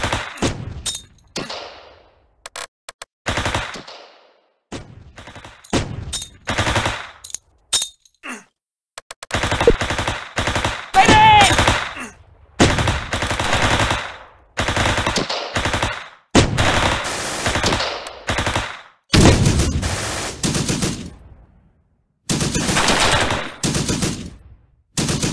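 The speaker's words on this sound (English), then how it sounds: "You're under heavy fire." Heavy video game gunfire, loud close machine-gun bursts in rapid repeated volleys broken by short gaps and thuds.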